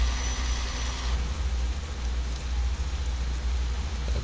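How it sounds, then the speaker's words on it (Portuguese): Steady rain from a realistic rain mod in the truck-driving game Euro Truck Simulator 2 hisses evenly throughout, with a low engine rumble underneath. "Chuva mais real, barulho da chuva aí."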